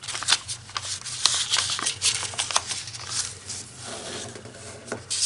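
Paper folded and creased for an origami pop-up card, with rustling, crinkly rubs and light taps in irregular bursts, close and moderately quiet.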